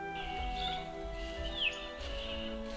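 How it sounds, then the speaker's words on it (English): Faint bird calls chirp in the Australian bush over a low steady hum, with a couple of brief thin whistled notes standing out against the quiet background. "And the birds, you hear the birds singing and saying thank you."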